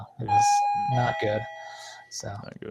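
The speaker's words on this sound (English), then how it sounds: "sorry about the doorbell there." A doorbell chime rings through for about two seconds during a conversation in a shop, with voices talking over and around it.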